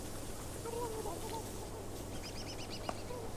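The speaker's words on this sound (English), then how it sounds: "Get the turkeys, you can't get them." Turkeys in the video game Don't Starve gobble and chirp in short, fast repeated bursts over a low steady background hum, faint and fairly distant.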